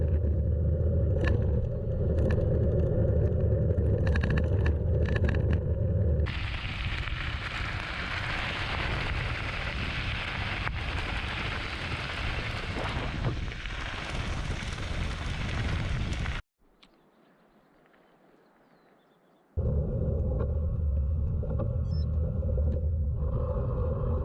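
Gravel bike rattling and rumbling over a washboard, corrugated gravel road near Bend and Sisters, Oregon, a loud continuous broadband roar with a sudden quiet gap before the noise resumes.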